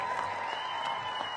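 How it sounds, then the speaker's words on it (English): Steady applause from an audience greeting an all-girls band performing live at a DC event, a continuous wash of clapping with light crowd murmur throughout. "So give them a round of applause."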